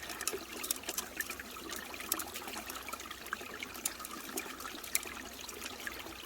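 Water swirling and trickling in a gold pan as leftover bucket material is panned out, a steady close wet sloshing with small splashy dribbles throughout.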